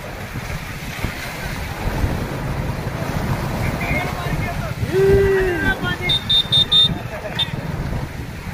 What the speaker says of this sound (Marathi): बघा मारुती पुलावरून पाणी जाणार आहे.